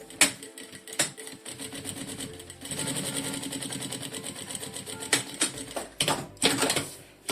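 A sewing machine stitching a straight seam on a small synthetic-and-lining mini backpack, with a few short bursts first and then a longer steady run of rapid needle clatter, close and clear.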